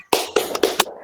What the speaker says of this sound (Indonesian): Mari bersama-sama tepuk semangat